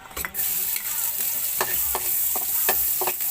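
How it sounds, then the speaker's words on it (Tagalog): Garlic sautéing in a little cooking oil in a pan, a steady close sizzle broken by several sharp scrapes and clinks of a utensil stirring, with no talking. "para igisa natin yung bawang"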